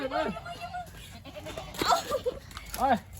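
Several goats bleat in short wavering cries, one near the start, a cluster in the middle and another near the end, with other background sounds.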